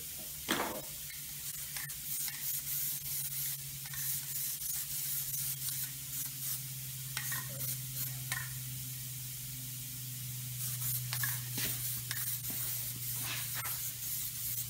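Plasti Dip aerosol coating being sprayed onto car wheels, a continuous hiss through the whole stretch with short pauses and faint clunks and rattles.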